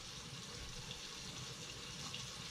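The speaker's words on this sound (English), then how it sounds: "I'm going to run cold water." Cold water runs steadily from a kitchen tap over a pot of freshly boiled eggs, a continuous soft gush with no voices.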